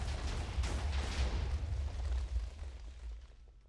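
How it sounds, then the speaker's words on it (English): A tailed beast bomb detonates in a Naruto mod for Minecraft, giving a loud, sustained explosive roar with heavy low rumble that fades slightly over several seconds, with no talking. "then the second it hits, lands, it creates an explosion, and it's just horrific"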